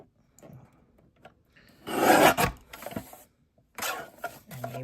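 A paper card base is trimmed for a slimline Valentine card, giving short rasping cuts that come in two bursts amid quiet pauses, close and moderately loud.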